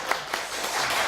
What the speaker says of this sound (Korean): 이럴 때 박수 한번 보내주겠습니다.